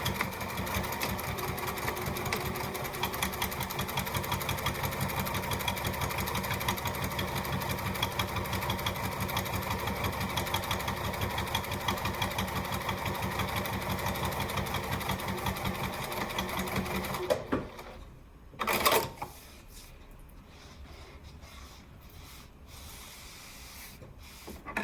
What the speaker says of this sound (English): I am going to back stitch a couple times at the top, because that'll definitely become a stress point.